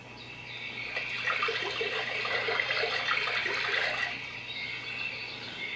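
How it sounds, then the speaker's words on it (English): Soft trickling water runs under a faint chorus of chirps and croaks from a koi pond iPad app, swelling in the middle and easing off, a quiet pond ambience with frogs and birds. "for my pond I think I want frogs and birds"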